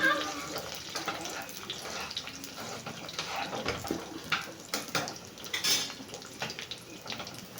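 Boiling kuzhambu gravy poured from one pot into a tempering pan, heard as splashing liquid and clattering pots and utensils up close in a kitchen.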